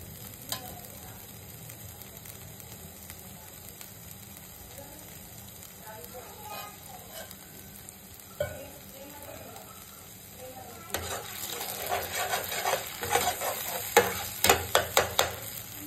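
Mutter paneer ingredients fry and get stirred in bubbling oil, a quiet sizzle that swells into crackling bursts and scraping stirs toward the end, with a voice talking over parts of it.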